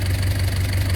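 A 1991 Mazda Titan diesel truck idles close by with a steady, even low clatter and rumble, constant and alone throughout.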